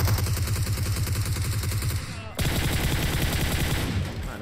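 Rapid automatic gunfire in the battle royale game PUBG Mobile, steady repeated shots throughout at moderate volume with a short break midway, under players talking.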